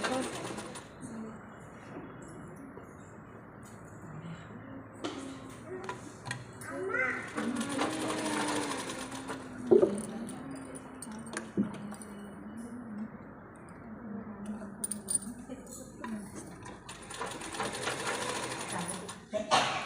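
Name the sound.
sewing machine stitching thread piping with normal presser foot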